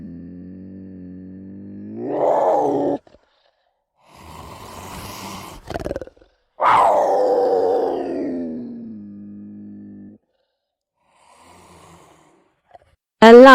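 Puma vocalizing with long, low, rasping growls and groan-like cries, each sustained for several seconds with breathy pauses between, fairly close and loud, ending on a short sharp call.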